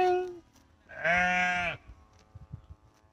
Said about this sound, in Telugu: కొడైకెనాల్ గొర్రెలు